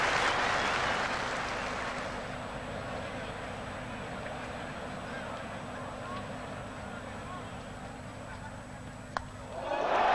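A cricket crowd at Old Trafford, England versus Australia in the 1981 Test, applauds Paul Allott's fifty: a broad wash of clapping and cheering that swells at the start and then fades to a lower hum beneath commentary.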